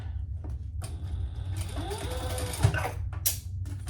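A sewing machine top stitches a crossbody bag with a triple zipper, running in a steady mechanical whir for a few seconds with brief pauses and a small clunk near the end.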